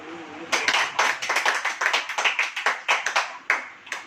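A Hindi-speaking church congregation claps hands during a sermon, starting after a short pause as a loose, uneven burst of distinct individual claps that stays fairly close and clear.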